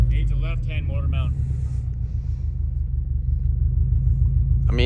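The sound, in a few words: Subaru WRX STI turbo engine running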